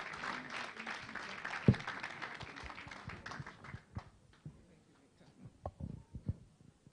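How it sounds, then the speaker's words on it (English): An audience at a grand finale event gives a round of polite applause, faint and spread out, with scattered claps and one sharp bump as it tapers off into isolated hand claps and quiet room noise. "Please give her a round of applause, please."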